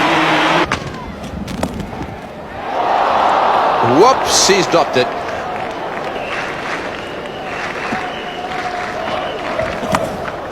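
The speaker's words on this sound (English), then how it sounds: "the crowd has come alive" Cricket stadium crowd during an Australia versus South Africa match rising into a loud roar after a dropped catch, with commentators talking over the swelling noise and a burst of cheering.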